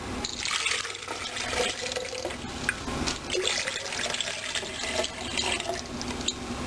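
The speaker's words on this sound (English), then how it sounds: "the water goes in the blender" Water poured into a blender in a home kitchen, a continuous splashing rush with small drips, loud and close, without speech.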